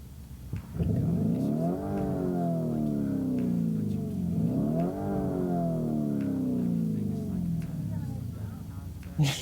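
A car engine revs twice in long rising-and-falling sweeps, idling loudly between them, close by and steady throughout, with no talk over it.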